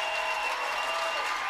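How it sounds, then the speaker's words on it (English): Blue Jays fans at a high school basketball sectional final applaud, a steady wash of clapping from a crowd, moderately distant and continuous. "Cordell Rankin comes out, gets a big round of applause from the Blue Jays fans here"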